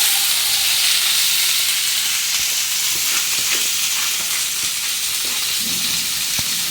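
Chopped onions and green chillies sizzle loudly and steadily in a hot pan, a close, continuous frying hiss with a few faint clicks.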